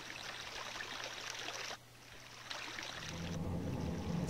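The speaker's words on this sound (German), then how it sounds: "Und damit fließt wieder ein Fluss durch Ikana." River water flowing steadily through Ikana in Zelda: Majora's Mask, a continuous moderate rushing and trickling stream that briefly dips and then swells again with a deeper gurgle.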